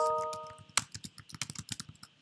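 Quick, light key clicks on a computer keyboard as a chart title is typed, an irregular run of close taps, with a few bright chime-like tones sounding at the very start.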